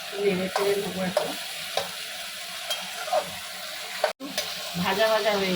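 Malabar spinach stalks are stirred in a frying pan with fish head, onion and salt, giving repeated scraping strokes over a steady sizzle close by.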